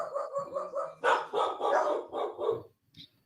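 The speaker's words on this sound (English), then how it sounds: "we got puppy dogs barking" Small dogs yapping in a quick series of barks, several sharp bursts in a row, fairly close and loud, ending with a short whimpering yip.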